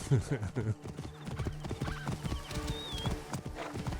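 Horse hooves clip-clop steadily in Assassin's Creed Origins while a horse gives a whinny. Someone talks over the game sound throughout.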